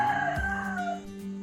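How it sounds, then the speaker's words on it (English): Backyard homestead chickens near their coop, one clear cluck or short crow up close, its pitch sliding downward, then quieter calls trailing off against light background noise. "That's the chicken coop back there."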